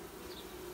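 Honeybees buzz around an open hive, a steady faint hum with a few brief higher whines from individual bees passing by.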